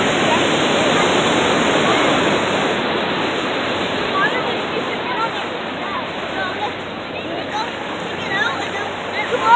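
Ocean surf breaks at Crescent Bay in Laguna Beach, California, making a dense, close roar of churning, splashing water that holds steady and swells slightly near the end.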